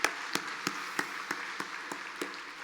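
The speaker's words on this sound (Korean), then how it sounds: "우리 함께 수고하신 모든 분들을 위해서 박수 한번 하겠습니다" A church congregation claps in a Sunday morning service, heard as soft, fairly distant applause with a few sharper regular claps standing out at an even beat.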